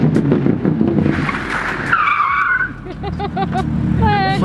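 A Lamborghini does donuts with loud, close tire squeals and skidding over a revving engine, with several rising and falling screeches and a final sharp squeal, while people's voices sound faintly underneath.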